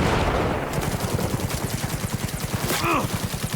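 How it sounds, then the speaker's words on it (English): Rapid, evenly spaced automatic fire from a corrosive assault rifle in Cyberpunk 2077 Phantom Liberty, a loud close stream of shots with a brief voice near the end. "This is my corrosive assault rifle."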